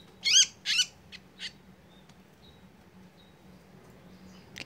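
Small songbird just taken from its shipping box giving two loud, sharp chirping calls close by, followed by a few fainter brief chirps over a quiet room hum.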